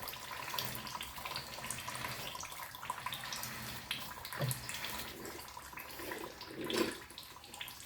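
Fluid, likely transmission or differential oil, drips and trickles from the drain port of a 2004 Honda CR-V on a lift, a close, steady watery patter with a few louder splashes.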